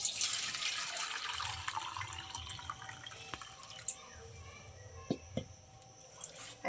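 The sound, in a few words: pouring warm water into a pot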